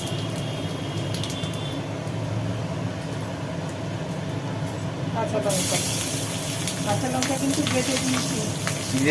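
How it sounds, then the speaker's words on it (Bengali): Black cumin seeds hit hot oil with a broad, steady sizzle that swells louder partway through, as a person keeps talking over the frying. "তেলের মধ্যে পড়ে গেল একটু কালো জিরে"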